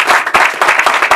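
An audience at a creativity and innovation talk claps in a brief, close burst of uneven hand claps, loud and lively.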